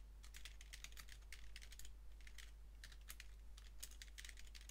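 Bursts of quick keystrokes on a computer keyboard as code is typed, close and fairly quiet over a low steady hum, with short pauses between runs.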